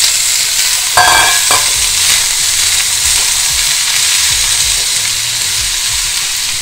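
Chayote (chow chow) pieces fry in a pan with green chili and get stirred, making a steady close sizzling hiss with a spatula scrape near the start and no talk.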